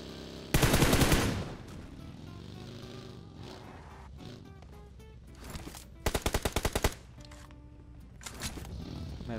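Automatic gunfire in the PUBG video game comes in two loud bursts, a long rattling spray near the start and a shorter rapid burst later, with engine-like rumble and game ambience between them.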